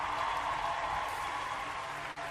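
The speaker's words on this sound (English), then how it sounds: "I'm going to hit this applause button a lot tonight." Crowd-style applause plays from a sound-effect button, a dense, even wash of clapping at moderate level, cutting off abruptly near the end.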